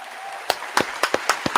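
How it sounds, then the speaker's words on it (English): A few sharp, separate claps ring out in an uneven rhythm over a quiet background, hands striking for a man during a street-side talk in New York City about a 20 mph speed limit. "Can we get that man a clap, God?"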